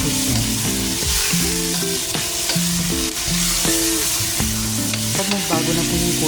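Chicken frying in a pan, a dense continuous sizzle with steady crackling throughout, close and fairly loud, mixed with a musical background and no talking.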